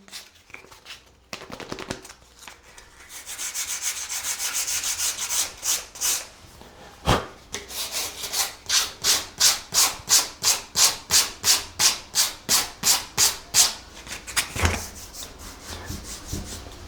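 Fine-grit sandpaper rubbed by hand over a painted door, first a steady continuous scrubbing, then a long run of quick, regular back-and-forth strokes close by, with no talking.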